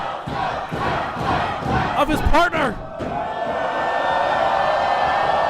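A sold-out crowd at a wrestling championship match roars steadily through the whole stretch, swelling into louder shouts in the middle while a commentator talks over it.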